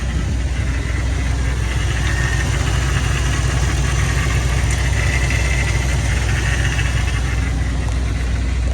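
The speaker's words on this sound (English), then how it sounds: "Our motor's pretty damn steady." A car motor idles steadily and loudly nearby, a continuous low rumble with no revving or changes in pitch.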